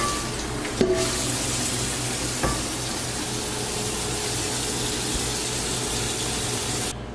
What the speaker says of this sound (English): we're back and our base is boiling.